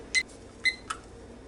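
Three short electronic beeps from a kitchen timer being set, quick and faint, two close together and a softer third, over a low steady hum.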